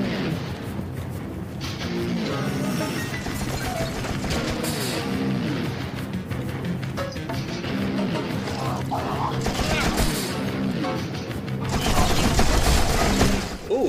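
A PPSh submachine gun fires in the video game You Are Empty, in loud sustained bursts of rapid, continuous shots layered with crashes and impacts. A voice talks over the gunfire.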